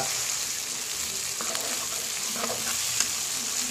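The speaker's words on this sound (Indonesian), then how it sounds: "Aduk sampai merata." Pucung, the black keluak paste for Betawi gabus pucung, stirred in a frying pan, a steady sizzle with faint scraping strokes throughout, no talk.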